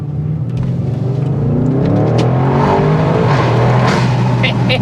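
Engine of a 2020 Audi RS6 Avant C8 fitted with a full Akrapovic exhaust system, droning loud and close from inside the car, its deep tone climbing steadily as the car accelerates.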